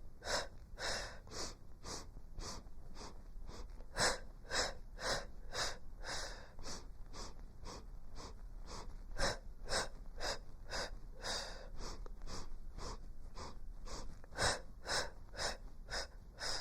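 Short, sharp nasal breaths pulse in a steady rapid series during a breathing exercise, each exhale a quick puff repeating evenly over many seconds, fairly faint and with no talking.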